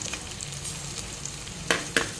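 Steady oil sizzle from a pan frying curry leaves, green chillies and ginger, with a couple of sharp scraping stirs near the end, fairly quiet and with no voices.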